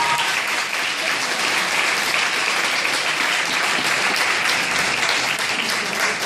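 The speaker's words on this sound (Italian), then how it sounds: "Un grande applauso." An audience in a school assembly hall in Mondragone, Italy, applauds a singer introduced at his album launch. The clapping is dense and sustained at an even, full level for several seconds, with no voices over it.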